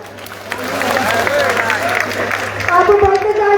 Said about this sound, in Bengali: একটা করতালি দিব